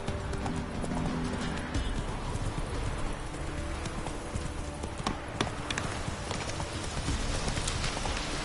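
Roach, the horse in the video game The Witcher 3, gallops with a steady, close clip-clop of hooves, with rain-like ambience underneath.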